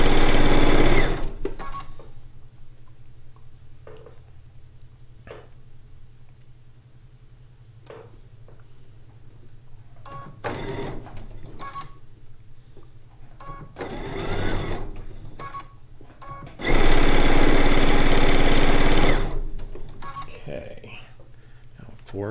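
A sewing machine joining log cabin quilt pieces, with short runs of whirring and a louder sustained burst toward the end, and some talking and handling noise in between.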